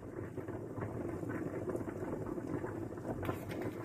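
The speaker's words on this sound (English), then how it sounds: "you can probably hear my potatoes bubbling away in the background" Steady bubbling of a pot of potatoes boiling on the stove, a continuous soft burbling texture with no voices.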